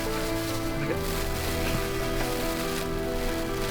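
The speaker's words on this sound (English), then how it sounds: "it started to rain. It's raining! It's raining!" Steady rain pours down in a constant, even hiss, close and loud, with a faint hum beneath and no clear voices.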